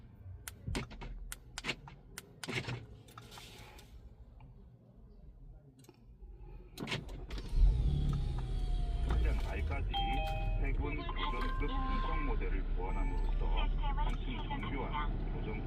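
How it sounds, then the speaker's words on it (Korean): An Audi A7 is remote-started with its factory smart key: a few sharp clicks and beeps come first, then the engine catches with a loud surge and settles into a steady, close idle with a faint tonal whine above it. "아우디 순정 스마트 키로도 원격 시동이 가능합니다."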